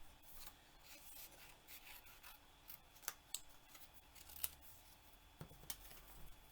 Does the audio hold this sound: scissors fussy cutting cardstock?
yes